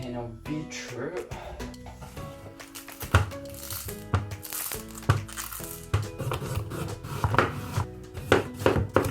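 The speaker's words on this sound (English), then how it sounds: "Continue chopping." A knife chops cabbage and beetroot on a board in quick irregular bursts, sharp taps close by, with music playing throughout.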